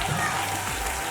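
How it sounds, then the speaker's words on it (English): A brief stretch of audience applause at a primary school graduation ceremony, a dense, even clatter of many hands with a faint low hum underneath. "One more round of applause for them."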